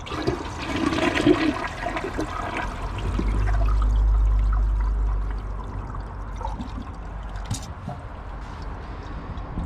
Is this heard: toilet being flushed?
yes